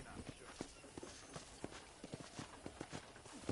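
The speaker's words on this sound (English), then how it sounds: "I picked out a fine horse for you." Horse hooves clip-clop at a steady walking pace on a ranch in the Western game Red Dead Redemption, a soft, moderately close series of hoof falls with faint background ambience and no talk.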